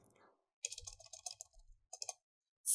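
Typing on a computer keyboard under Windows 11 comes through as quiet, close clicks in short bursts, ending with a sharper keystroke.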